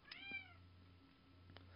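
A cat named Mario gives one clear, rising-then-falling meow near the start, followed by a shorter faint chirp later, close by and alone over a quiet background hum.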